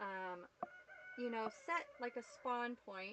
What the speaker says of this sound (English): Sorry if you hear the chickens in the background.